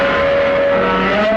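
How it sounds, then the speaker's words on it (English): Cars and trucks rush by on a street in a steady, loud traffic roar with a sustained engine drone, close and continuous with no talking. "a parade of cars and trucks traveling west sped past her like they were fleeing Godzilla"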